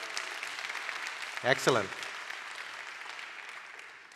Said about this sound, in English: let's give a round of applause to Rain itself, their leadership, and to all the members